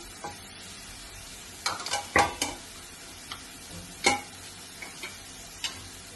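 Carrot and capsicum with onion stir-fried for chicken fried rice: a low steady sizzle with scattered spatula clicks and scrapes against the pan, a burst of clatter early on, then sparse taps, with no talking.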